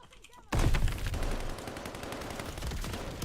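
Gunfire in the video game Call of Duty Vanguard, from an M1 Garand semi-automatic rifle, erupting suddenly into loud, dense rapid shots that continue throughout.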